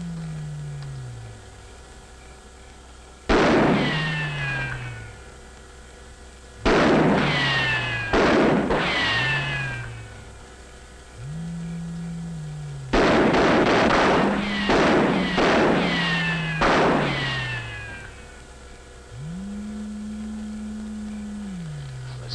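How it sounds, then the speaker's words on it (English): Several rounds of gunfire from soldiers ring out in bursts, loud sharp reports separated by pauses, with rumbling echoes and a low engine-like drone underneath. "Fire a few rounds."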